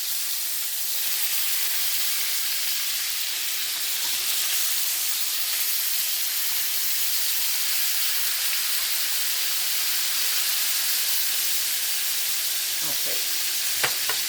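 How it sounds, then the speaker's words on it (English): Chicken thighs browning face down in about three tablespoons of butter in a pan, giving a loud, continuous close sizzle and hiss with a couple of small clicks near the end and one brief spoken word. "put about 3 tablespoons of butter into your pan, and then you're going to put the thighs face down"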